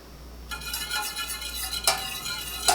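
Garlic being stirred in melted butter in a pan, a soft sizzle with scraping spoon strokes and a couple of sharper clinks against the pan, close and fairly quiet.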